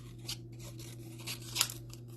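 Scissors cut paper chips, giving a few separate crisp snips spaced apart, the last one loudest, close and quiet over a low steady hum, with no talk.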